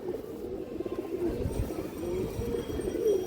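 A female Bagha pigeon that bears a tournament stamp gives low, soft coos over a murmuring background, faint and steady with no talk.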